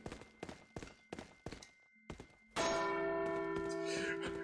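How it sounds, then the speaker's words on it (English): Heavy thuds and footsteps give way to a loud church bell ringing in Resident Evil 4, its deep tone sustaining and shimmering to the end. "Ring the bell."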